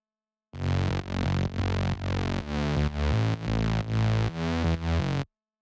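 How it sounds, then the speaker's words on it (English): A buzzy, heavily distorted saw bass synth plays a repeating sequence of sustained notes, loud and gritty, with short gaps between each note. "Add distortion."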